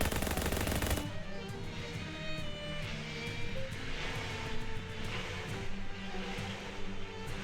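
Gunfire in the video game Shadows Over Loathing, a loud sustained rattle of automatic shots with a sharp onset, then a dense continuous barrage and rumbling noise.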